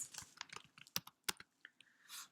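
Quiet typing on a computer keyboard, a quick irregular run of close, soft clicks and taps with a few louder keystrokes, heard alone.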